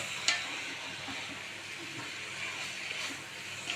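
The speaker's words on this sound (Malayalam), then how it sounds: "നന്നായി ഒന്ന് മിക്സ് ചെയ്യണം കേട്ടോ." Food is mixed in a pan over a low, steady sizzle, with a sharp clink near the start and a few soft scraping stirs, heard close and fairly quiet with no speech.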